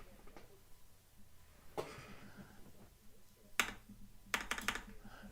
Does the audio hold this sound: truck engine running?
no